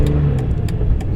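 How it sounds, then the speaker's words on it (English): A car engine idles with a low steady rumble while warming up on a snowy day, loud and close, with small bursts of higher hiss or clatter over the continuous drone. "Car is still kind of warming up."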